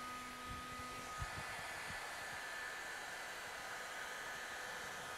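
A heat gun warms vinyl wrap over a recessed dent with a faint, steady airy hiss. A few soft low thumps of handling come through in the first two seconds.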